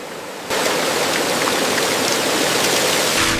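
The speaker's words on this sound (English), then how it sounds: "Here, water washes across the slices and removes excess surface starch." Water steadily washes over fresh potato slices in a potato chip factory, a loud continuous rushing wash that starts abruptly after half a second and keeps up evenly with no voices.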